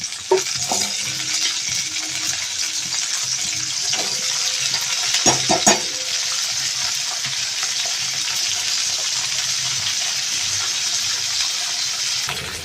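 Vegetables for chorchori fry in a pan with black cumin, giving a steady loud sizzle throughout with a few clinks and stirring knocks near the middle.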